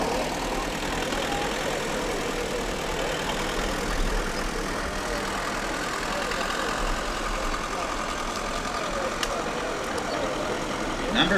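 A 1950 McCormick WD9 tractor rolling in a small-town Montana centennial parade, its engine running steadily in a low, continuous rumble throughout, with crowd noise and faint background sound mixed in.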